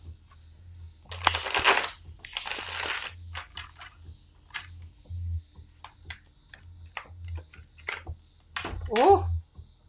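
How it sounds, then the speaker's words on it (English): Tarot cards being shuffled during a live astrology reading, bursts of riffling card flutter followed by scattered taps and flicks of handled cards, close and moderately loud, with a low hum underneath. "Let us give this one shuffle for the next."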